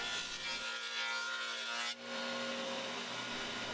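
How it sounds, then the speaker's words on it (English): A dado stack on a table saw plows channels into a wooden base for T-track, a steady loud broadband cutting roar with the whine of the blade running throughout, alone with no talk. "I put in the dado stack and I plowed the 2 channels in the base that will have T-track"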